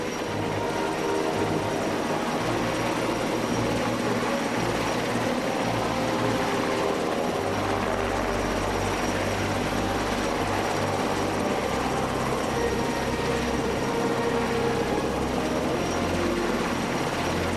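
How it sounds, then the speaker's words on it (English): A rescue helicopter hovers over flood waters below a dam, its steady, loud rotor and engine roar continuous throughout with no voices. "riding skyward to the awaiting helicopter"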